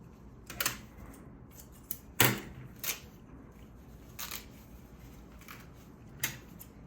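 Scissors snip through a sock, followed by a few sharp, scattered cuts and tearing sounds, close by and otherwise quiet.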